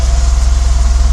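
A Toyota KP30 with a 4K engine runs just after starting, a steady, rapid low pulsing idle throbbing evenly, loud and close.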